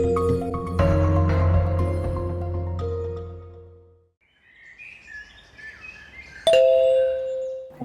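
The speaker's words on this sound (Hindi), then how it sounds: "तो घंटियां बजाते रहते हैं।" A doorbell at a home chimes in a sustained tonal ring that fades away, followed by a quiet stretch with faint chirping and then a second sharp ding, no voices present.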